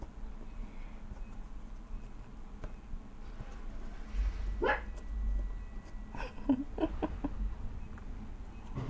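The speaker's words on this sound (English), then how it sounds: "He's so bad with the barking though." A dog barks a few times at moderate distance, short sharp yaps clustered near the end over low background rumble.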